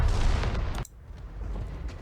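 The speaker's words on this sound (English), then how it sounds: "An explosion rings out" A sudden explosion in the video game NIKKE: a loud, dense blast roars for under a second, then cuts off sharply into a lower rumbling tail.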